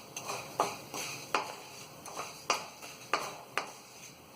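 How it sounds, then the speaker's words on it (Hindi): Chickpeas roasting in desi ghee in a pan, stirred with a utensil that makes about nine evenly spaced scraping clinks against the metal over a faint sizzle, close and fairly loud, with no talking. "ये देखिए बहुत जल्दी छोले भून जाते हैं।"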